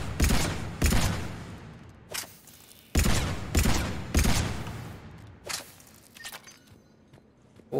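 Gunfire in the video game Mass Effect cracks out in sharp bursts and single shots, several loud close blasts spaced unevenly with quieter shots trailing off in between.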